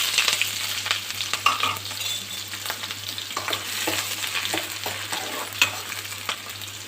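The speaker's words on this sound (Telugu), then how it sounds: "వేడెక్కాక ఫస్ట్ అయితే ఉల్లిపాయలు, పచ్చిమిర్చి, కరివేపాకు వేసుకోవాలి" Onions, green chillies and curry leaves fry in hot oil for chicken and potato kurma, giving a steady close sizzle with a bright hiss and repeated stirring scrapes and clicks throughout, with no talking.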